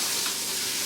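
Kale goes back into a pan of garlic, olive oil and butter, giving a brief, even hiss of frying close by with no talk.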